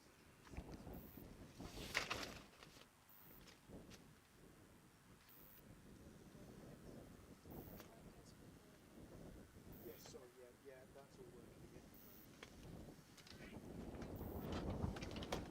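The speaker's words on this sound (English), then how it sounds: "So wind, you can just hear that." Wind buffeting a microphone at a sunny, windy coastal cricket ground in Hamworthy, uneven gusty rumbles that swell and fade under a commentator's voice.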